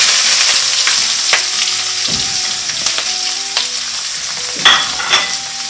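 Curry leaves, green chilli and chopped onion fry in a pan for desi poha, giving a loud, steady sizzle broken by several sharp stirring scrapes and clinks, with no talking.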